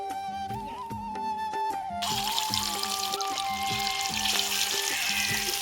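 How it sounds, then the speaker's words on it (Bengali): Fish frying in hot oil for a khichdi meal: a steady broadband sizzle starts partway through and continues to the end, sitting under a constant melodic music bed. "মাছটাকে ভেজে নেবো গরম গরম মাছ ভাজা"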